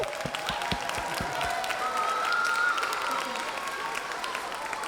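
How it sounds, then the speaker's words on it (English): A youth conference audience applauds, dense clapping that is loud at first and then thins toward the end, with some scattered cheering. "let's also have one more round of applause for all of the teachers who have brought you here today"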